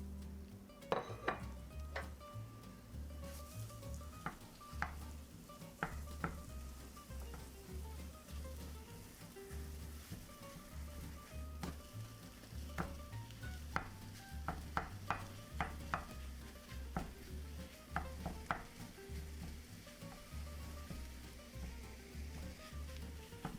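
A pound of regular sausage frying in a pan and being stirred, soft steady sizzle with frequent clinks and scrapes of a utensil against the pan, fairly quiet and close.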